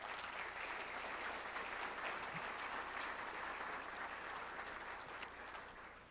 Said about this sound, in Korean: 모든 분들이 이러한 분들을 위해서 또 기관을 위해서 큰 박수 한번 부탁드리겠습니다